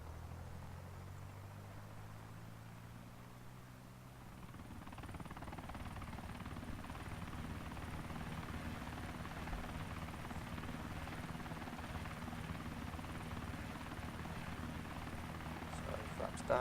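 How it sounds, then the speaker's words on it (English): Osprey tiltrotor aircraft flying in Arma, a steady rotor and engine drone that rises after a few seconds and holds at a constant level throughout. "Osprey works perfectly. The only issue we have with the Osprey is its landing."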